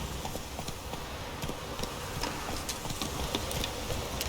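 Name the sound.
horse Roach trotting, from video game The Witcher 3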